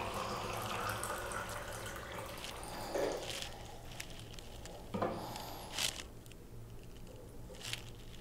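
Tap water runs from an uninsulated pipe in a steady, soft hiss with brief splashes and clinks, fairly faint, with no talking.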